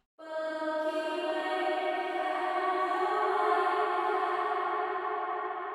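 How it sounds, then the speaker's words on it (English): An atmospheric synth pad for a deep progressive house breakdown swells in and holds one sustained, bright chord, washed in long, spacious reverb that keeps ringing throughout. "So to make these types of atmospheric pads, we need a lot of reverb."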